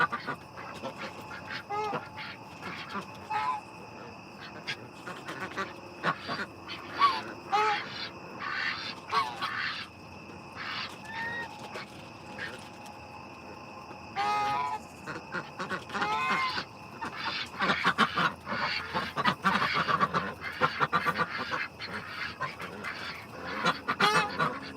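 Geese honk and ducks quack at bedtime on a farm, a scattered chorus of close calls that thickens into a busy, overlapping clamor toward the end.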